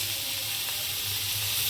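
Onions sautéing with coriander and mint leaves in a pan, a constant, loud hiss of sizzling oil that carries on evenly with no pauses.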